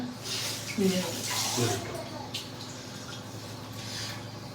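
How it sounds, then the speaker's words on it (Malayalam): Water is poured into a pot while a meal is being cooked, a soft splashing trickle running beneath a person talking throughout. "കൂടി വെള്ളം വെച്ചിട്ട്"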